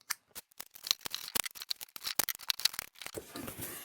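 Tape ripped off the roll and pressed onto cardboard egg-head pieces, a run of quick sharp tearing and crackling bursts in an irregular rhythm, close and alone.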